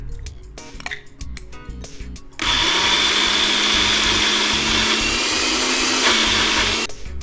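A mixer grinder whirs loudly as it grinds soaked split moong dal into batter, a steady high-pitched motor whine starting abruptly after some clinks and running continuously before cutting off.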